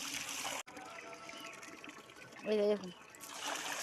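Water from a hose spreads in a steady wash across a rooftop, with a brief trickle standing out midway while someone talks over it.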